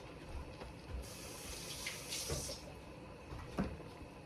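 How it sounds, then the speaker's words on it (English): Half a cup of water poured into a pan of saag lamb (spinach and lamb curry) during cooking, a soft splashing pour that swells briefly midway over a steady low kitchen background. "And ½ cup of water."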